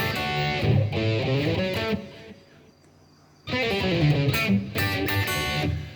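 Distorted electric guitar plays a riff, with chunky overdriven chords and string noise, a brief near-silent gap in the middle, then the riff resumes loud and close.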